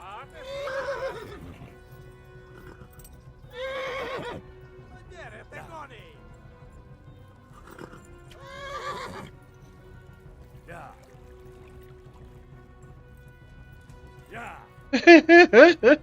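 Horse neighing in the video game Kingdom Come Deliverance, several separate whinnies spaced across the stretch, ending in a louder burst, with someone talking excitedly in between.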